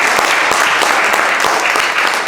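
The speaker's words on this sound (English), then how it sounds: "And let's give Bob and NJCDC another round of applause." An audience bursts into dense, loud applause, many hands clapping together in a continuous, evenly sustained roar that fills the whole stretch without a pause.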